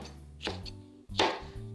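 Knife chopping bell peppers on a board for tomato soup, two quick bursts of sharp, close cuts separated by a short pause, with a low hum underneath.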